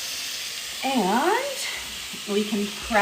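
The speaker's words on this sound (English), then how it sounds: "I'm gonna let those saute up" Vegetables sauté in a pan with a continuous soft sizzle and hiss running under a person talking throughout.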